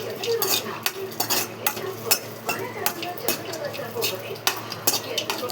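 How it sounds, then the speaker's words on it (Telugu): Dry fruits fry in ghee in a pan while a spoon stirs, giving repeated scraping clinks over a soft, continuous sizzle, close and lively. "తర్వాత నెయ్యి వేసుకొని డ్రై ఫ్రూట్స్ అన్నీ వేయించుకోవాలి"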